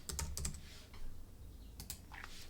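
Computer keyboard typing while entering a formula in a coding editor: bursts of quick, close key clicks at the start and again near the end, with a quieter pause between.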